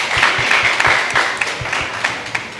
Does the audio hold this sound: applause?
yes